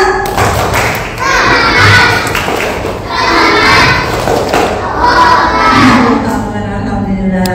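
A group of children doing a rhythmic spirit clap at a Quran reading class, loud close claps and thumps in a steady pattern mixed with excited young voices calling out together.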